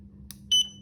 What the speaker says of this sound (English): required torque setting, there's a buzzer